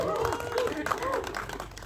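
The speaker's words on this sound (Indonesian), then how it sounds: "Tepuk tangan dong untuk mereka" An audience at a press conference claps in a brief, fairly quiet patter of applause while a voice talks over it.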